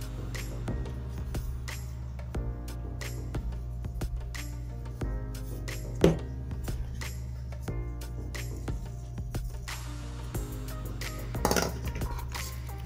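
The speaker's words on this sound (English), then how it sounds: "And then you want to mix it all up well." Mashed potatoes are mixed with milk, butter, onion powder and garlic powder in a pot, steady scraping and soft squishing with occasional clinks of a utensil against metal, under a constant low hum.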